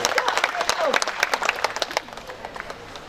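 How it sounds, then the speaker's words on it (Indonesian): Applause from the audience at a NasDem party inauguration ceremony in Luwu, starting loud and dense with crowd noise and fading over a few seconds, with a voice speaking over it. "Beri tepuk tangan yang meriah untuk beliau"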